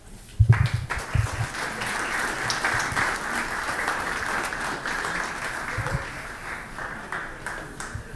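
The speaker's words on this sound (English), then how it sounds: "round of applause for our first guest, Gina" Audience applause greets the first guest, Gina, at a startup keynote stage event, a sustained wash of clapping that swells after a couple of sharp early claps and carries on steadily before tapering near the end.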